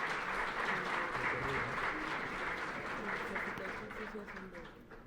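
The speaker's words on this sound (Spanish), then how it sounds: "Un aplauso, por favor." Sustained audience applause at an award presentation in a parliamentary working session, steady and fairly loud throughout, fading slightly toward the end, with faint voices mixed in.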